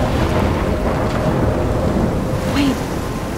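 Rain pours in a thunderstorm in the video game Life Is Strange, a dense, loud, unbroken wash of rainfall with a low rumble of thunder beneath, steady throughout.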